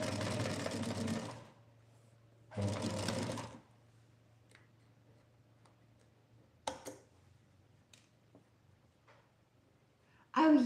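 A sewing machine stitches bunting in two close, loud bursts of rapid whirring, each about a second long, then falls quiet except for a few faint clicks and taps.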